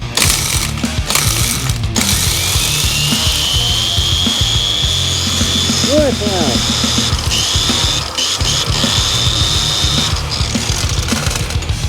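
A machine crushing saved quartz rock gives off a loud, continuous mechanical grinding and ratcheting clatter with a whining tone, close by. Brief clunks and rattles break in near the start.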